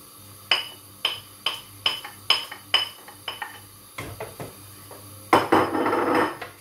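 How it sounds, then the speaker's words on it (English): A utensil stirring lemon filling in a saucepan taps and clinks against the pan in a steady series of sharp metallic knocks, close and clear, ending with a brief scraping rustle. "Give it a good stir"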